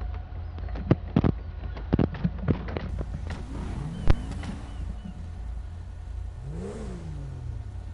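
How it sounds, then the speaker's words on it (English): V8 supercar engines starting up for a street race, with scattered sharp clicks followed by two rising, sweeping revs at moderate loudness and no talking. "Gentlemen, start your engines."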